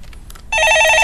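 A telephone rings on a Korean stock-market radio call-in show, a loud, continuous bell-like trill that starts abruptly after soft background murmur.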